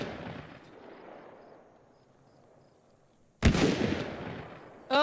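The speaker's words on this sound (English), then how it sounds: "Here comes the shotguns now." Shotgun fire in the video game DayZ: two sharp, loud blasts, the first followed by a short decaying tail and the second cut off at the end, over quiet game ambience.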